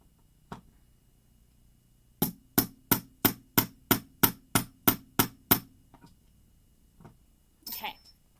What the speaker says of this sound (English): then you just hit a few times with the hammer